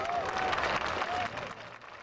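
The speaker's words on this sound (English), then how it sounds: "The airshow crowd greets the Mustang pilot with applause" An air show crowd at Malmi applauds a Mustang pilot after his display, a steady wash of clapping from many hands that fades slightly toward the end, with a faint tonal whine drifting through and some murmuring underneath.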